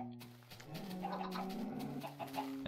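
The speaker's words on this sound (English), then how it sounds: "let's kill some of these chickens." Low clucking and cooing from a Minecraft chicken, a few soft murmured calls close by with no speech.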